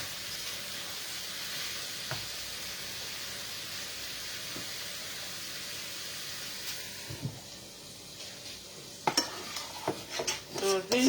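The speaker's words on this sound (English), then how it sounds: "So this is the saucepan for my stir fry." Butter and garlic stir-frying in a saucepan over low heat, a soft steady sizzle and hiss with occasional scrapes and clinks of a utensil, busier stirring knocks toward the end.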